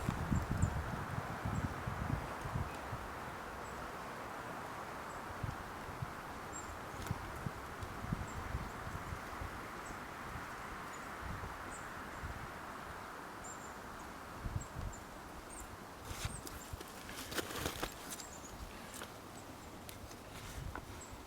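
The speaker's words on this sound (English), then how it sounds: "Wind blowing." Steady wind blowing through the woods around a rustic log cabin deer hunting camp, a continuous broadband rush with faint rustling and small gusts, heard alone throughout.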